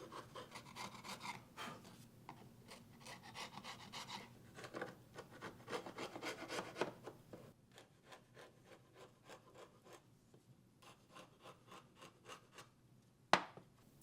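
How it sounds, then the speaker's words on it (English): A chisel scrapes squeezed-out glue off the sides of a pressed MDF box in quick rhythmic strokes, close and fairly quiet, ending with one sharper scrape. "glue oozed out the sides, so I scraped it off with a chisel"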